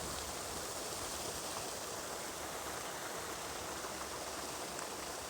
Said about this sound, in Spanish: Miren donde nace un río.